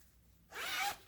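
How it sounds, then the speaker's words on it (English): A zipper on the back of a cross-stitch project bag drawn in one short quick pull, close and fairly faint, with no talking. "Zipper on the back."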